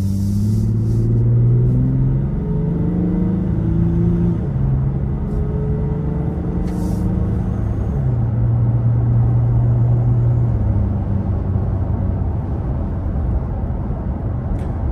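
Toyota Tacoma pickup cruising on a road in cold weather, heard from inside the cabin as a steady, loud low rumble with engine tones shifting as speed changes, no talking.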